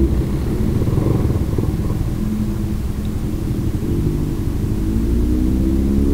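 A motorcycle engine rumbles steadily while riding, a loud continuous low drone with no pauses and no voices.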